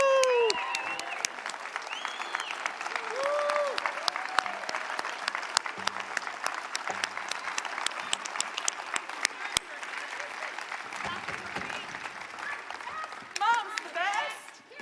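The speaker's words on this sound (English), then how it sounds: "I would love for you to stand up right now so we can cheer you" An audience applauds and cheers for moms, dense clapping running throughout with whoops and shouted voices rising over it, swelling again near the end.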